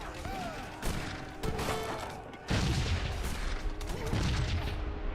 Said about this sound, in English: Rifle grenades firing away.